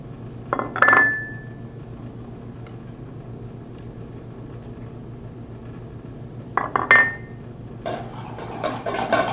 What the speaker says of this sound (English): we're gonna grab all these vegetables, and we're gonna start loading them into the pan